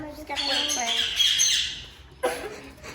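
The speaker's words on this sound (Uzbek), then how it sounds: "Hozir to'tilarni ushlab qafasiga qo'yamiz" Parrots being caught to be put in a cage let out loud, harsh squawks up close, one long screech followed by another after a short pause.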